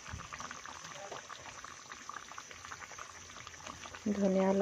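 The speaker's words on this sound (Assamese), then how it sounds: "চব্জি উতলি আছে, দেখিছে নহয়।" A pot of vegetable curry boils on the stove with a steady, close bubbling and simmering hiss throughout, and a brief voice-like tone rises at the very end.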